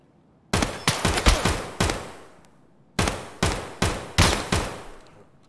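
Gunfire in Escape from Tarkov as a scav shoots: two bursts of sharp, loud shots, several rapid reports each with short echoing decay, separated by a pause of about a second.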